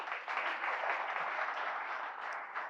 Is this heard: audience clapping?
yes